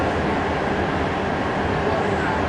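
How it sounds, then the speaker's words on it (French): A Paris RER suburban train passes with a steady, dense rumble and roar in an underground passage. The noise stays loud and continuous throughout, with no other sounds standing out. "J'erre dans les couloirs des RER"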